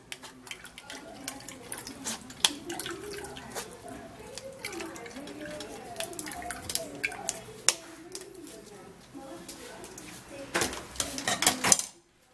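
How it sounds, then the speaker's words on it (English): Garlic and ginger juice is sieved in a kitchen, with clinking of utensils against a strainer and cup and a light trickle of liquid, continuing unevenly at moderate volume for several seconds before stopping abruptly. "I would have to be sieving out the garlic and the ginger"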